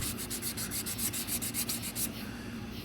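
Fine 600-grit sandpaper scrubs rust off a wheel rim in quick, steady back-and-forth strokes, a rhythmic hissing rasp that runs for about two seconds and then eases into a softer, continuous rub.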